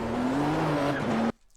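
Nissan GTP ZX-T race car engine in iRacing at the Nürburgring Nordschleife, pulling back onto throttle with a steady droning tone and faint tire noise, loud and close for over a second before cutting off abruptly.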